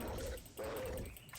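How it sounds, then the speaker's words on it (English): A dog in the ARK: Survival Evolved video game gives two short, close whimpering yips over a steady game soundscape, with no talk. "there was a dog by the Wacky Shack, so now I'm petting poochers"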